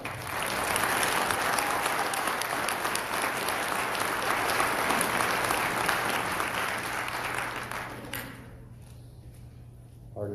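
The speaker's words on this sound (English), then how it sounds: "A big round of applause for Eric." Applause from a forum audience welcoming Eric before an opening prayer at an Idaho governor candidate event, a dense sustained clapping that fills the room for about eight seconds, then thins and fades out.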